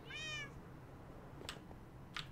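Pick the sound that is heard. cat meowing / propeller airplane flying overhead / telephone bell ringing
cat meowing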